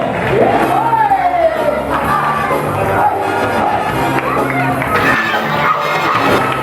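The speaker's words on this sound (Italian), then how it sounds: "Ecco l'applauso, ecco l'applauso." At a small hotel magic show, an audience responds with crowd noise and scattered clapping under a voice and lively chatter throughout.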